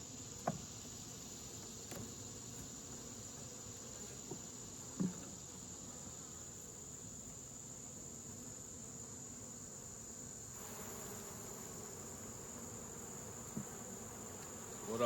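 Honeybees buzz around hive boxes in an outdoor apiary, a faint and constant drone with a few soft knocks and taps scattered through it.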